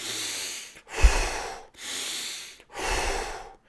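Three slow, deliberate breaths in and out during a guided breath-work exercise, each a broad airy rush lasting under a second, with short silent pauses between, close and clear.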